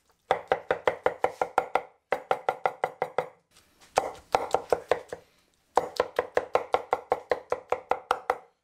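Crushed garlic and ingredients for an oven-roasted Turkish chicken kebab being pounded and mixed in a kitchen, heard as quick, steady, close knocks in several bursts separated by short pauses.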